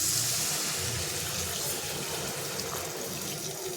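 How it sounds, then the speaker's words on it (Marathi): Water being poured into a pan of masala-stuffed ivy gourds, a steady close splashing stream that gradually softens over a few seconds. "तर ह्याच्यामध्ये आपल्याला पाणी टाकून घ्यायचंय आहे"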